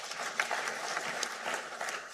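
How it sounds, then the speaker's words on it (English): Conference hall audience applauding a panel at a national safe motherhood conference, a brief, fairly faint patter of clapping heard at a distance. "Please give them another round of applause."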